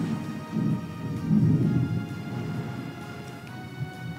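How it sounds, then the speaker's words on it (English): Loud thunder from a storm rolls and rumbles low throughout, swelling in the middle with rain-like texture and no talk, heard within an RPG Maker VX game. "Yeah, that's some loud thunder."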